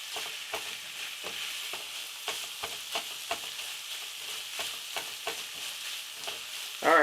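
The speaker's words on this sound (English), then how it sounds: "So we're still waiting for that sausage to brown properly." Sausage browning in a frying pan sizzles with a steady bright hiss, punctuated by regular soft scraping taps of a utensil, and a short louder clunk at the very end.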